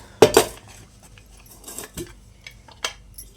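A metal kadhai handled in a home kitchen, with two sharp clanks close together at the start followed by scattered lighter knocks and scrapes, spaced irregularly with quiet gaps between.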